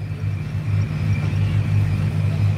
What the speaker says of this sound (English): You can hear that Durango ricocheting off of that building.